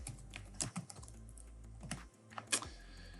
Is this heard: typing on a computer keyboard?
yes